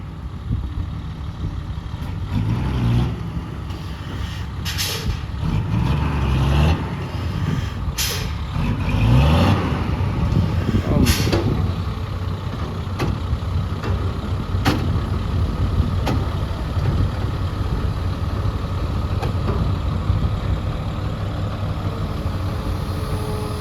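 Ten-wheel dump truck manoeuvring to tip soil, its diesel engine rumbling loudly throughout with several sharp hisses of air brakes and revving as it shifts position.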